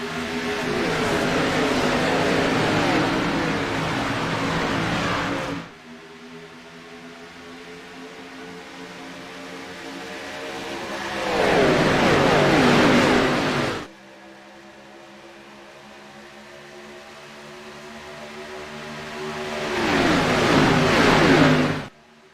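Race car engines in a sim racing game at Daytona roar past in waves, each pass swelling to a loud rev before dropping back to a lower drone as the cars pull away, repeating several times with no talk.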